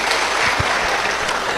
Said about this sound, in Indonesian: Tepuk tangan kasih panitia yang luar biasa.